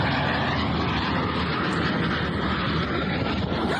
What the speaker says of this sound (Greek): το εκπαιδευτικό αεροσκάφος Fuga Magister συντρίβεται στο λαβαντού της Νότιας Γαλλίας